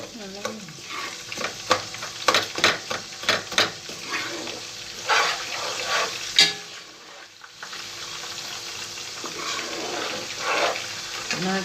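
Coconut oil heats in a pan for homemade hair oil, giving a low crackling sizzle with scraping and clinking stirs near the start, then a steadier, softer hiss.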